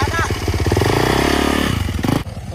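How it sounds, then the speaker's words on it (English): A Honda CRF150R dirt bike engine roars loudly up close on a city street, its rapid pulsing note climbing and falling before cutting off sharply, with voices faintly under it. "It's a dirt bike. Dirt bike is a dirt bike."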